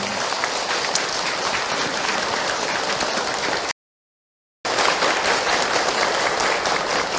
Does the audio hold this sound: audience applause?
yes